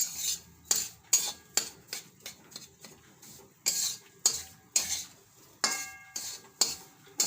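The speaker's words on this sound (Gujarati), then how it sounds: "તો લોટને સરસ આપણે શેકી લેવું।" Flour being roasted for gund pak, with a metal spoon or spatula scraping and knocking against the pan in repeated sharp strokes. Clinks come at irregular intervals with quiet gaps between them.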